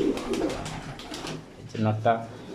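A pigeon coos softly several times, near and clear, with a person talking quietly nearby.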